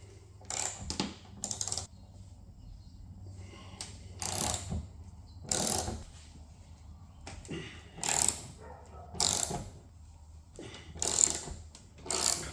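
Ratchet driving a T50 Torx bit on the bonnet of a Jeep JK Wrangler, heard as repeated bursts of quick clicking separated by pauses, fairly close and alone with no talk.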